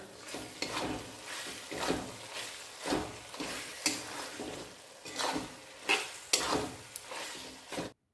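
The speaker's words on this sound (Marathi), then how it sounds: "त्यात कोथिंबीर घालून घेऊया. कोथिंबीर घालून घेऊ. आता हलवून घेऊया." A spoon scrapes and stirs dry Kolhapuri mutton, cooked in its own juices with fresh coriander, around a pan, making a steady rhythm of rough swishing strokes roughly once a second over a faint sizzle, close up with no talking.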